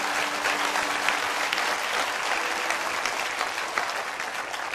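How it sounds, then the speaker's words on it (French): A church congregation breaks into sustained, loud applause, a dense wash of clapping that stays steady throughout with no break. "Acclame, acclame, acclame."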